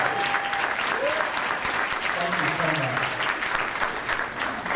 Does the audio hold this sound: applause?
yes